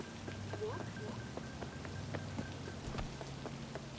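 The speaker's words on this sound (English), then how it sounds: "at least it's raining" Rain falling in the video game Cyberpunk 2077 during a break-in at an industrial park, a steady wash of drops under game music and clicks, with a voice speaking over it.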